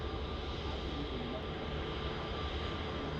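A Qantas airliner rolls off the runway at Melbourne Airport, its engines giving a steady, broad roar at moderate distance with no break across the few seconds.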